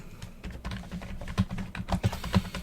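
Quick, uneven keystrokes on a computer keyboard, close and moderately loud, a short burst of typing with a few heavier clacks near the end.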